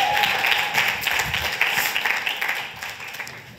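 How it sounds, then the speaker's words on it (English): Audience applause filling a room after a comedian's countdown, steady dense clapping lasting a few seconds and slowly thinning out near the end, with no talk over it. "give yourselves a round of applause"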